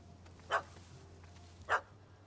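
A dog in The Witcher 3 gives two sharp barks about a second apart, clear over a quiet low background hum.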